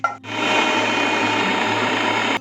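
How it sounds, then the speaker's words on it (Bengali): A kitchen mixer grinder blends ginger, onion and garlic into a paste, a loud steady motor whir that kicks in after a short pause and cuts off abruptly near the end. "মিক্সির মধ্যে এক টুকরো আদা, একটা ছোট পেঁয়াজ আর এই দেখুন বেশ 5-6 কোয়া রসুন দিয়ে এটাকে আমি একটা পেস্ট বানিয়ে নিচ্ছি।"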